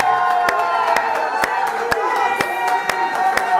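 Wedding guests at a nuptial blessing clap in a steady, evenly spaced rhythm of sharp claps, with a crowd cheering and voices rising together beneath the beat.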